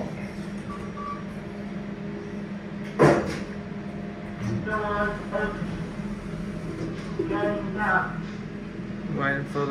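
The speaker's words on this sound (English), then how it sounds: "Waiting for the doors to close" Kone MonoSpace lift doors close in a shopping park store, a sharp clunk followed by a low mechanical hum and rumble as the car moves, with people talking nearby.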